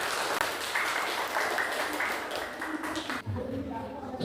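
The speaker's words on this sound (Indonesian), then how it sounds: "silakan tepuk tangan" A class of students clapping hands during an Islamic school lesson on Quran recitation rules, with steady, moderately loud applause running through the clip and some talking mixed in near the end.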